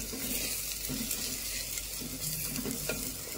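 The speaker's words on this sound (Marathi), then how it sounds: "आपला मसाला चांगला भाजत आहे" Egg curry masala roasting in oil for a village-style egg rassa makes a steady, close, hissing sizzle with faint crackles and no talking.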